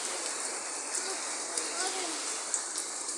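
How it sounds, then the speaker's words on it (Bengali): Steady rain falls during a sunny spell at the first rain of the year, an even close hiss with faint voices in the background. "বৃষ্টি হচ্ছে আবার এদিকে রোদ উঠেছে দেখেছো?"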